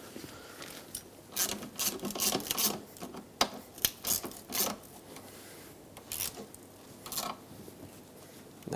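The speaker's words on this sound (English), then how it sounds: "Let's tighten up the rear bolts." A ratchet wrench clicks and rasps in irregular bursts while tightening the rear seat rail bolts inside a 2008-2010 Ford F-450 Super Duty cab, close and fairly loud with short pauses between strokes.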